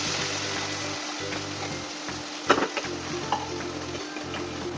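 Spice paste hits hot oil for a pomfret curry and spits into a loud, dense sizzle, with a sharp crackling burst midway and a few clanks of a pan and spoon over a low pulsing hum.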